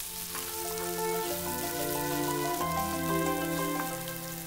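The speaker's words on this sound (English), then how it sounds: "the onions, so they all go in together, and then they'll need about a minute in the hot pan" Onions and garlic fry in a hot pan with a dense, rain-like sizzle that continues throughout, heard under steady tonal background music.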